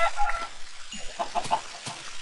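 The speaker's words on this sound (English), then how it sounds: "I am only killing chicken." A Minecraft chicken clucks in short, close bursts, a handful of quick squawky clucks spread evenly over a couple of seconds with no talk.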